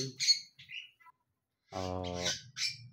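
Small birds in a backyard aviary give faint, scattered chirps and short tweets, along with a brief harsher buzzy call, separated by quiet gaps.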